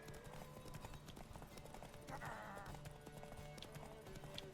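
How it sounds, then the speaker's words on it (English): Hooves clip-clop steadily at a gallop as a horse runs in a video game race, with continuous game sounds and music layered throughout and a brief whinny-like burst near the middle. "I don't have to slow down my horse"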